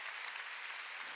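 A church congregation claps during a sermon, a brief burst of steady, even applause filling the room.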